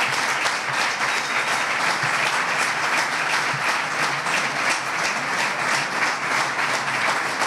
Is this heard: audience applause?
yes